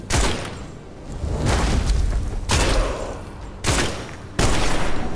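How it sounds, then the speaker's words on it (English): A shotgun fires repeatedly in the video game Witchfire, several heavy booming blasts spaced about a second apart, each with a rumbling tail, loud and close. "I want to see what this shotgun does."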